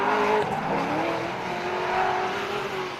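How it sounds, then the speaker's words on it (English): Two drift cars in a British Drift Championship Pro 2 battle at Driftland, one with an LS3 V8 and one with a Toyota 1UZ V8, roar loudly and continuously with sustained engine tone and tire squeal. "It's LS3 versus 1UZ. That's a battle I thought I'd never hear."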